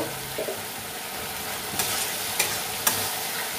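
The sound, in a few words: stirring vegetarian jackfruit curry in a pan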